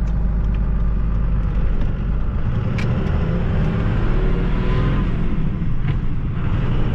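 A 2nd-gen 12-valve Cummins diesel pickup engine fitted with new governor springs runs in a steady, close, loud rumble, holding a fairly even drone throughout with no voices.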